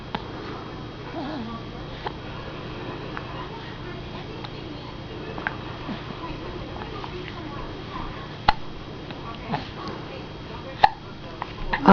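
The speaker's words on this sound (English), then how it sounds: "No, no, you got hiccups." A baby hiccups several times, small sharp catches spaced irregularly over a quiet indoor background, soft and close to the microphone.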